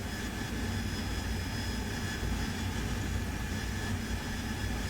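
An aircraft engine held at about 90% RPM in the DCS flight simulator game, a steady, even jet-like roar and whine that drones on without change.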